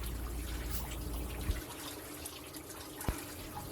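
Water streams steadily from an outdoor shower on a tiny-house resort property in South Cairo, New York, a broad constant hiss with a couple of brief knocks, heard alone with no talk.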